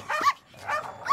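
A cartoon dog from the Mr Bean animated series barks three times in short, sharp, close bursts with brief gaps between them, and no talking.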